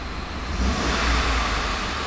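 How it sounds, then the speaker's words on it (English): A 2011 Ford F-150 pickup's 5.0-liter V8 engine rumbles and revs up briefly, the roar swelling then settling back toward a steady idle, close by with no talking. "I'm going to rev the engine here"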